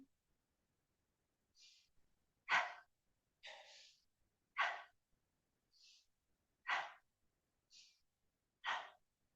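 Deep, rhythmic breathing during a yoga flow session with props, with about five strong, airy exhales in steady sequence, each preceded by a softer inhale, close and clear with no talking.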